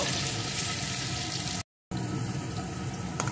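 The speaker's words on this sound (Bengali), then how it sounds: "এখন আলুটাকেও একটু সুন্দর করে ভেজে নেব।" Thick-cut potato pieces fry in hot oil with a loud, continuous close sizzle and crackle, broken by a brief moment of silence partway through.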